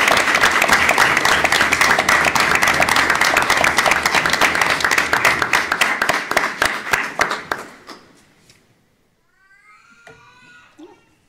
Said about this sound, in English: I'd just like us to give Josh a round of applause for all the work he's put into this